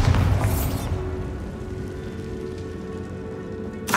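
A Bombarda spell explodes in the Hogwarts Legacy video game: a deep blast rolls into a sustained low rumble of scattering debris, loud and steady, with a sharp new burst right at the end.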